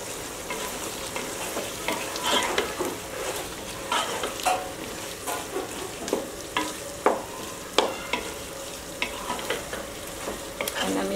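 Beef dum biryani ingredients with potatoes in a pot, stirred with regular clattering strokes over a steady frying sizzle, close and fairly loud.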